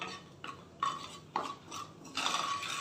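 Crushed whole spices stirred in oil in a pan for a pointed gourd curry: several separate strokes of a utensil scraping and clinking against the pan, close and fairly quiet, with no talk.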